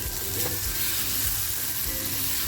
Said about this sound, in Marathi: तर आपला आता मसाला जळू नये म्हणून थोडंसं पाणी टाकते